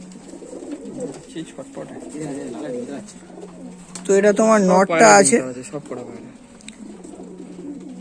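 Kal shira and chhapka pigeons coo while shown for sale, a burst of throaty, rolling coos rising in the middle. Quieter cooing surrounds it, and someone talks nearby throughout.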